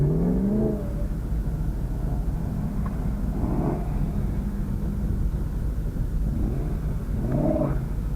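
BMW M3 cars in a mini drag race, engines droning low and steady with swells of revving that rise and fall, heard from nearby inside or beside the car, with no talk.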